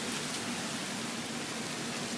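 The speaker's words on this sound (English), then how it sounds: "now we got a bullshit fucking rain coming down" Steady rain pours down in a dense, even hiss, close and continuous with no voices.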